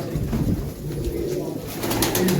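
Soft, low pigeon coos repeat close by over a constant background murmur.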